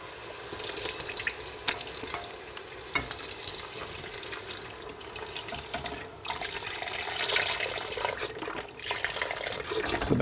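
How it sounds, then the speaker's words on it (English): A liter of chicken stock pours into a pot of Moroccan harira soup with softened celery. The stream splashes steadily up close for several seconds, with faint sizzling beneath it. "At this stage, I will add a liter of chicken stock."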